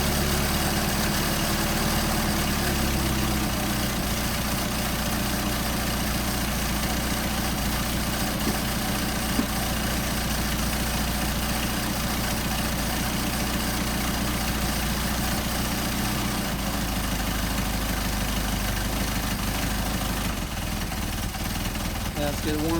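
An engine fitted with a Solex 44PHH carburetor, unstarted for a couple of days, idles steadily with a loud, close, even rumble and no revving throughout.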